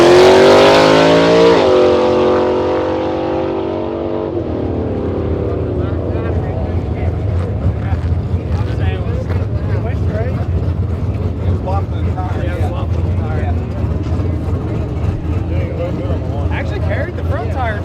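A race car engine roars loudly past, its pitch sweeping down, then settles into a steady, rumbling drone with faint talk underneath.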